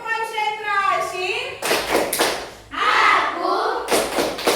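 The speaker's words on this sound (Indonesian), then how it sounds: "Ya, tepuk konsentrasi." A school class performs a concentration clapping rhythm, with bursts of group claps and taps alternating with children chanting together in a classroom; voices and clapping trade off in short patterned phrases.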